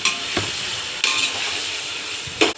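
Tomato pieces stirred into a sizzling pan for biryani, a steady frying hiss punctuated by a few sharp scrapes and clinks of a spoon against the pan, close and without talk.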